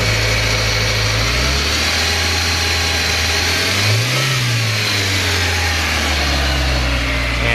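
A Suzuki car engine with oil still burning off in the exhaust runs loud and steady, idling with an uneven, rough chug, briefly revving up and settling back down partway through.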